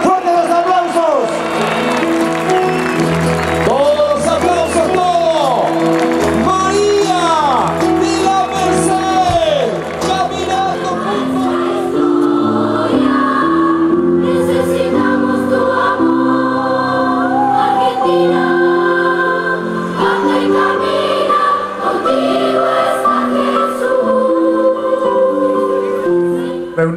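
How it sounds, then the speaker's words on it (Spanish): A large crowd of faithful at the opening of the National Eucharistic Congress in Tucumán applauds and cheers loudly and continuously, with rising whoops and shouts over sustained clapping and a voice speaking through the din. "¡Fuerte los aplausos!"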